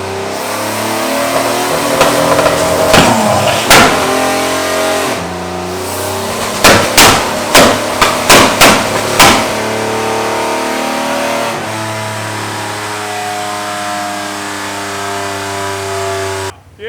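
A nitrous-fed Pontiac Firebird engine roars on a dyno, holding a loud sustained drone broken by several sharp blips and bursts in quick succession, then settling back into a steady, heavy idle.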